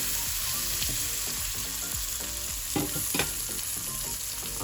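Turmeric being stirred into frying vegetables in a pan for a kubhindo (ash gourd) masaura and potato curry: a steady loud sizzle with a few scraping, clinking strokes of the spoon against the pan.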